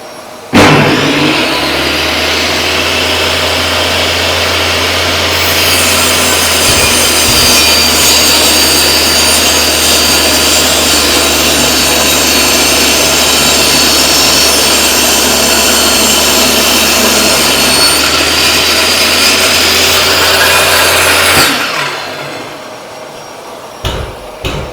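A table saw cutting a small piece of timber, fed with push sticks: loud, close motor whine runs steadily for about twenty seconds with a brief blade bite partway through, then spins down.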